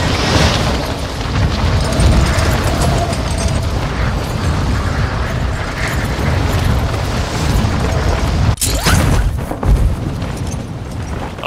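Artillery fire-mission explosions in Warzone 2, a dense, continuous rumble of booms and blasts lasting throughout, with a sharper burst near the end, loud and sustained with no talk over it.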